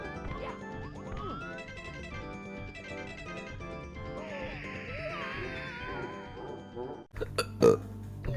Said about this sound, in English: I shouldn't be burping like that